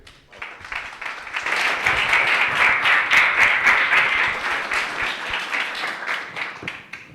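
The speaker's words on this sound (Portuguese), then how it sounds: "Então, peço uma salva de palmas" A lecture audience in Belém applauds a professor's talk on black holes. The clapping swells quickly and holds as a dense, loud, sustained round before tapering slightly toward the end.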